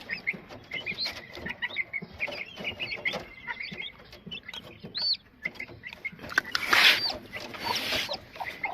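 A hen clucks among her chicks in a backyard poultry setting, with scattered soft clucks and thin peeps near and far and a brief louder flurry of calls partway through.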